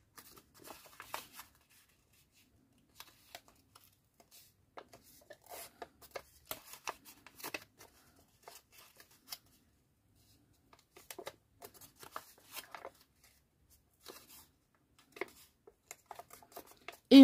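Paper pages being folded for a junk journal along dashed lines: soft, scattered creasing and rustling taps in short bursts with quiet gaps, close and faint.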